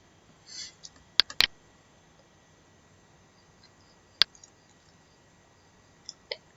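Computer mouse clicks while a sign-up form is submitted, a handful of sharp isolated clicks including a quick double, spread over several quiet seconds.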